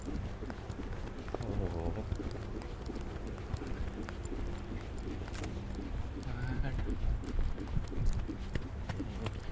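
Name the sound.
horse moving freely while warming up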